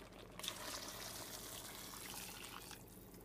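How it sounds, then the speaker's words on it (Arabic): Boiling water is poured steadily into a tagine pot holding an olive dish, a continuous close splashing flow that runs alone for about three seconds with no talking. "وغادي نزيد عليهم الماء نزيد عليهم الماء مغلي"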